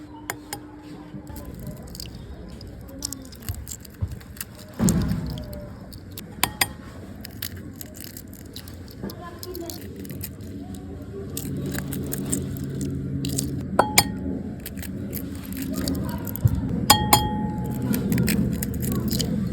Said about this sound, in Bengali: এক এক করে এখন আমি কলপাখি ডিম ফাটিয়ে নিচ্ছি